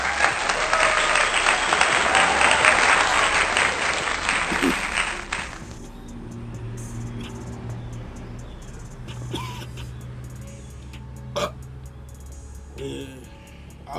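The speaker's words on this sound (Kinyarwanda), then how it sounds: "Amashi menshi cyane ku Uwiteka." A church congregation bursts into loud, sustained applause for about five seconds, then it fades into a quieter room with faint scattered noises.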